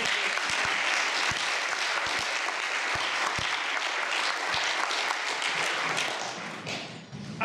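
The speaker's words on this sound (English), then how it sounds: "let's give Pastor Richardson and the choir another round of applause" An audience applauds a pastor and choir at a university talk, giving a dense, sustained round of clapping with a few louder claps standing out, tapering slightly near the end.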